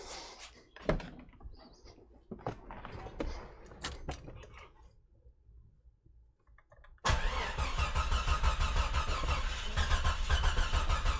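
Keys jangle and a door clicks, then a Jeep XJ's freshly rebuilt 4.0 engine cranks on its first start and catches, settling into a loud, steady rumble close by.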